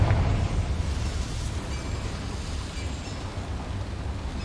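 A Confringo explosive spell in Hogwarts Legacy sets off a loud, broad blast that rolls on as a dense rumble, slowly easing off but staying strong, with no one speaking.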